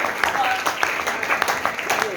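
An audience at a church Sunday school prize distribution gives a short burst of clapping, moderately loud and uneven, with talk mixed in over the applause.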